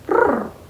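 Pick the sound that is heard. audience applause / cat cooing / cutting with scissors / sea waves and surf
cat cooing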